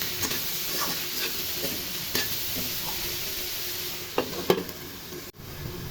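Capsicum and carrot with turmeric and salt frying in a pan, a continuous bright sizzle with a few scraping stirs and knocks near the end, close and steady, no talking.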